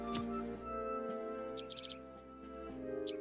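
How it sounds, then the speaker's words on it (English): A small bird tweets in the video game The Hex, a quick run of high bright chirps repeated twice over a steady, tonal game music bed, faint and close. "Bird says tweet."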